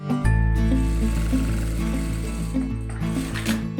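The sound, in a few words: Sun Special industrial straight-stitch sewing machine test-sewing faux leather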